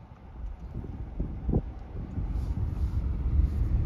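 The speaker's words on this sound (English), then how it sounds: "Sorry, it's windy, guys." Gusty wind buffets an outdoor microphone on a rural roadside, a steady low rumble with louder thumping bursts that swell toward the end; no one speaks.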